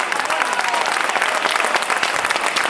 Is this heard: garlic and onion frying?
no